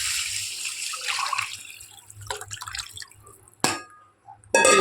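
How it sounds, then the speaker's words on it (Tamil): Tamarind water and chopped tomatoes pour into a pan for Tamil paruppu rasam, a close liquid splash and gurgle with a few sharp clinks near the end. "அது இந்த புளி தண்ணி இதெல்லாம் ஒன்றா ஊற்றிடலாங்க"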